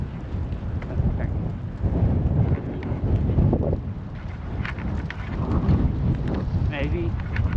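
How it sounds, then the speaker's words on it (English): Strong wind buffets the microphone while biking, producing heavy low rumbling gusts that rise and fall, with speech partly heard through the noise. "Yeah, it's so freaking windy."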